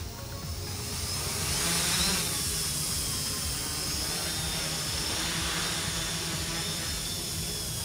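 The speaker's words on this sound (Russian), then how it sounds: "как вы можете видеть, квадрокоптер наш ожил, и мы можем поднять его в воздух" A homemade quadcopter lifts off and hovers, giving a steady, loud high-pitched motor and propeller whine with broadband rushing noise that holds for the whole stretch.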